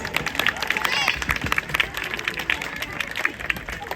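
Crowd applause breaks out at an outdoor show at African Lion Safari in Ontario, a broad wash of many hands clapping, moderately loud and steady for several seconds, with crowd murmur mixed in.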